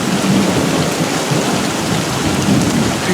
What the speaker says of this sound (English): the thunder was to my left